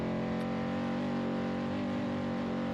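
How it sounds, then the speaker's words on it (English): Chevrolet stock truck racing off-road in the Vegas to Reno desert race, engine droning in a steady, sustained hum at moderate distance, fairly faint and continuous with no voices. "Stock truck is humming right now"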